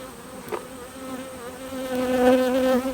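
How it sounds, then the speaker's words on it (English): Honeybees buzz around a hive in the early morning, a close, steady drone that swells louder as several bees pass near. "We've got a fair few field bees still in the hive, a little ticked off."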